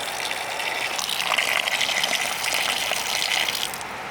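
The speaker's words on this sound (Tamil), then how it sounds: "அரிசியில் பார்த்தீங்கன்னா நம்ம தண்ணி ஊற்றி ஊற வச்சிடலாம்" Water poured from a vessel onto rice grains to soak them, a steady gushing splash that swells midway, runs continuously for a few seconds and then cuts off.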